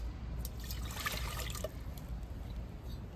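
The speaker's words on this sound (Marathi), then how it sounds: "आता आपण कुकर ठेवू, त्याच्यात पाणी टाकू" Water pours into a pressure cooker set on a wood-fired stove, heard as a continuous close trickling, splashing stream of liquid without any speech over it.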